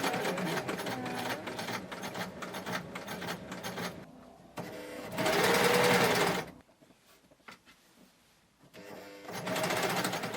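Sewing machine hemming a dress with white thread: loud rapid stitching runs in several bursts, separated by short pauses and quieter handling, with no talking.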